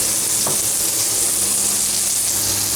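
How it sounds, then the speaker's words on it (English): Apple slices frying in a pan, a steady broadband sizzle holding at an even level throughout, close and alone with no voices. "when your apples are golden brown on both sides, get them out of the pan"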